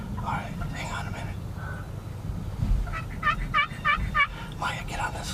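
Wild turkeys gobble on an opening-day hunt, a run of four or five rapid rattling calls fairly close by, with whispered talk from hunters and low outdoor rumble underneath.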